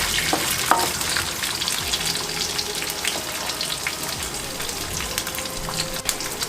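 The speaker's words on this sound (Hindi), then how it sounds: "भुने हुए चने डाल देंगे हम। दो मिनट इसको हम भुनेंगे।" Roasted chickpeas sizzle and crackle in a hot pan with a steady, dense frying hiss and occasional stirring scrapes, close and continuous without speech.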